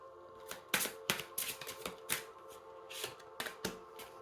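Tarot cards being shuffled by hand at close range, a run of crisp riffling flutters and soft slaps repeating irregularly over a few seconds with no talking.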